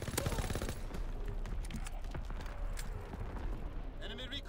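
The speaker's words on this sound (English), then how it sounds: "Incoming enemy artillery," Video game battlefield with rapid gunfire and explosive artillery impacts, a dense burst of cracks early on giving way to a continuous rumbling barrage, with a voice speaking over the combat.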